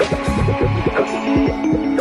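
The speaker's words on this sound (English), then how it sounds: "A pre-cut piece of cotton is slid into the space reserved for the gusset and automatically sewn" An automatic hosiery machine sews a pre-cut cotton gusset into pantyhose, giving a fast, steady rhythmic thumping over a low mechanical hum, with no voices.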